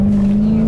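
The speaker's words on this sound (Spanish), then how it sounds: "Aquí el Charger, ¿eh? Con 770 caballos de fuerza." Dodge Charger with a 770-horsepower engine holds a steady, loud, deep engine note throughout, close to the microphone and alone, sustained rather than rising.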